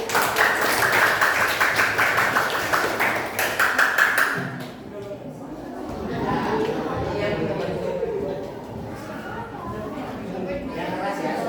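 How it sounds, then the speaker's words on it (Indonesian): Applause for a student group in a classroom, a few seconds of rapid clapping and taps that cut off abruptly, followed by a murmur of talking voices. "tepuk tangan untuk kelompok 4"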